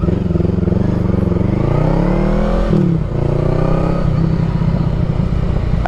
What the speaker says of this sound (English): It's actually sounds like a motorcycle.